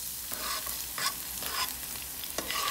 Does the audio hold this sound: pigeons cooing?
no